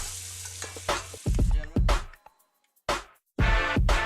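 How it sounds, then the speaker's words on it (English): Butter and flour stirred into leftover bacon grease to build a roux, a spoon scraping the pan in uneven strokes over a soft sizzle, with pauses of near silence between bursts. "We're gonna make a nice little roux here."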